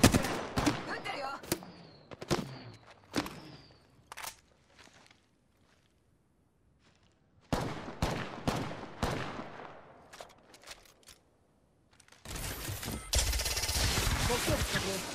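Gunshots in Apex Legends come in sharp scattered bursts, go quiet for a stretch, return as more shots, then end in a loud sustained volley of rapid fire, with a voice speaking at times.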